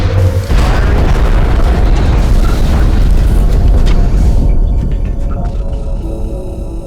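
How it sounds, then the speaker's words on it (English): A heavy shredder rocket blast in X-Com: Enemy Unknown, a loud deep boom that swells and rumbles for several seconds before fading into a lingering low hum. "one of our heavies can now fire a shredder rocket down"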